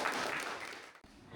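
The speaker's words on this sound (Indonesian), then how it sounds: "Beri tepuk tangan" Short burst of applause from a classroom group after a presentation in a Hindu religious education session, moderately loud clapping that drops off abruptly near the end, then thinner sound.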